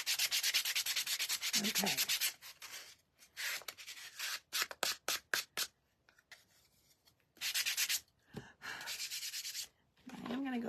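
A small Gator micro sander buzzes against a wooden heart-stand craft piece, running in several long bursts with short on-off pulses between them; a voice speaks briefly.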